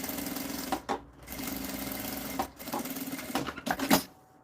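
Fabric lining is stitched on a sewing machine in close, quiet bursts of rapid needle clatter, stopping briefly between runs and closing with a few short start-stop passes.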